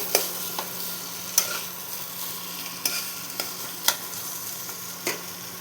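Potato filling seasoned with salt and turmeric sizzles in a pan, with a steady fry hiss broken by about half a dozen sharp, evenly spaced scrapes of a spatula stirring it.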